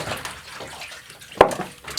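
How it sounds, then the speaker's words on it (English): Soft water sloshing and rinsing as photographic prints are washed in a darkroom tray, a low wet swishing with one sharp splash or knock partway through. "just wash my prints for about 5 minutes with the rinse aid"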